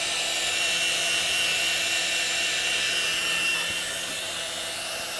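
A power drill spins continuously near a car engine while faulty rocker and lifter parts are being worked on, a loud unbroken whine filling the whole clip and easing slightly toward the end, with no speech.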